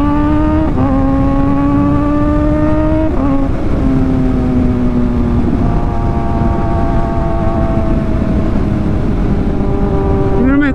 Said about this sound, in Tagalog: Habang tumataas yung RPM, lalong tumitining yung sounds.